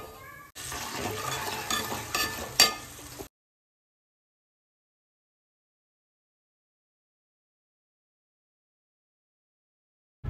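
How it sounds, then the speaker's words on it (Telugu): Onions and green chillies fry in a pan, giving a short burst of sizzling and stirring scrapes for about three seconds before the sound cuts to silence. "ఆనియన్, పచ్చిమిర్చి అవన్నీ కొంచెం ఒక 5 minutes అట్లా వేపిన తర్వాత"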